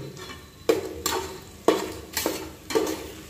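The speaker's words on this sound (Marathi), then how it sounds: "आता मिरची टाकतोय" Green chillies dropped into hot oil in a pan while cooking khichdi, giving several sharp sizzling bursts in a steady rhythm, each flaring up and settling back over a low frying hiss.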